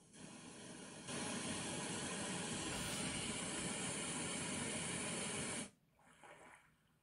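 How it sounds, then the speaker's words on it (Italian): White noise from a Tribit Home Bluetooth speaker's built-in relaxation mode plays as a steady, dense broadband hiss that holds level for several seconds, then cuts off abruptly into quieter room sound. "Il primo è il rumore bianco."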